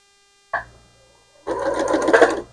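A sewing machine stitches place-mat pieces together: a brief click, then a steady one-second run of close, fairly loud mechanical whirring with no talk.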